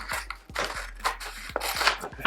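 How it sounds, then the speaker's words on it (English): Scissors snip through vinyl wrap on a laptop, making about seven quick, crisp cuts in an uneven rhythm, close and clear. "I think it's always a good idea to cut it with scissors."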